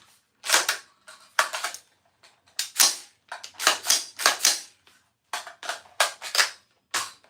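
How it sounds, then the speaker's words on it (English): Charging handle of a Daniel Defense AR rifle racked again and again, each pull giving a sharp, close metallic clack in quick pairs, with short pauses between bursts and no talking. "I'll rack that Daniel Defense AR real quick"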